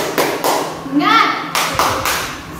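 A teacher leads children in the rhythmic Indonesian 'tepuk semangat' spirit clap, a few sharp hand claps in a pattern with a spoken chant between them.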